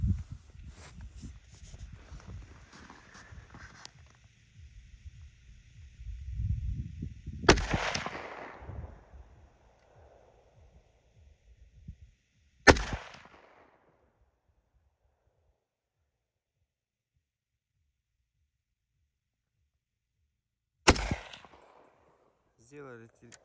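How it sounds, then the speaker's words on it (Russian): Three sharp rifle shots at a target range crack out one at a time with long pauses between them, each followed by a short echo, after some low rumbling handling noise. "Сделай сразу 3 выстрела по первому мишени."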